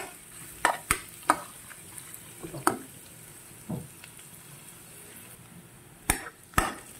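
Ginger sautés in a pan while being cooked to golden brown for a catfish adobo in coconut milk: a quiet sizzle under sharp, irregular spatula clanks and scrapes against the metal pan, close by.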